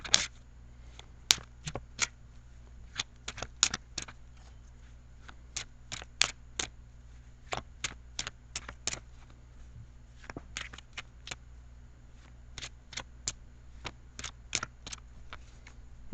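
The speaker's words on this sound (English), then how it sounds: "So I'm going to shuffle for just a few seconds more." Tarot cards are shuffled by hand in a quiet room, with crisp, irregular riffles and flicks heard up close, some in quick runs and some alone, and no talking.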